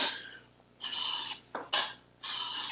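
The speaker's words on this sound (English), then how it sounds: "So I'm going to go ahead and make a burr on the coarser stone." A hollow-ground hand plane blade is pushed across a coarse sharpening stone in long rasping strokes, four bursts of gritty scraping with short pauses between, close and clear with no talking.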